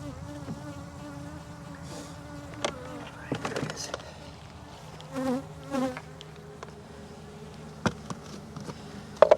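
Honey bees buzzing in an open hive full of nurse bees on brood frames, a steady close drone with scattered louder passes and knocks from handling the frames.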